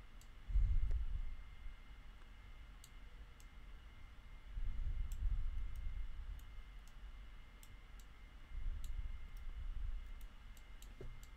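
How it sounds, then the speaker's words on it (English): Faint, sparse single left clicks of a computer mouse at a desk, scattered across about eleven seconds. A quiet room hum and a few soft low thumps sit underneath, with no talking. "with a single left mouse click."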